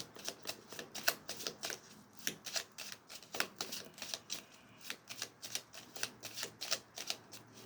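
Tarot cards are shuffled and drawn by hand, making rapid, close flicking riffles in a steady run of crisp clicks with no talking.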